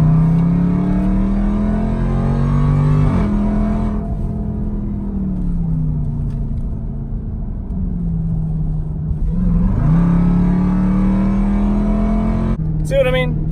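A Jeep Trackhawk's engine revs and pulls hard in long rising and falling sweeps, a loud, sustained growl close by with brief dips between pulls.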